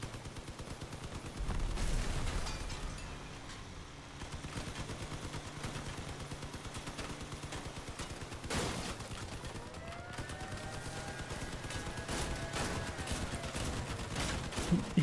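A deployed turret firing rapid bursts in the vehicle combat game Crossout, a dense rattling stream of shots over a steady engine rumble, with one louder blast partway through, moderately loud and without speech.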